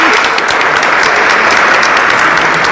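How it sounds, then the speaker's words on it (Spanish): An audience at a book event applauds an improviser with loud, dense, sustained clapping that fills the room evenly from start to finish, with no speech. "Un aplauso para Joaquín, tremendo improvisador"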